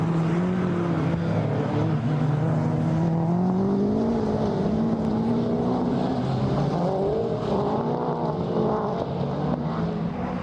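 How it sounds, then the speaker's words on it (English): Several rallycross cars race together at Lydden Hill, engines roaring loud and close in a continuous thundering pack, with rising and falling engine pitch as they charge around the first corner. "the rest of the cars thundered around the first corner"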